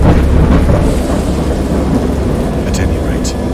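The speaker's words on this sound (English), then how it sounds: "I heard pearls of thunder and other tones which nature utters only in her wildest moods" Loud, dense roar of a thunderstorm in the horror game Dagon, a continuous rumbling wash of thunder and heavy rain with faint higher crackles late on.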